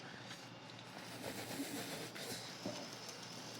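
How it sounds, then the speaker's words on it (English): A model express train rushes past with a faint, steady rolling rumble and light rail clatter, brief and quiet with no voices. "Then, Gordon thundered through."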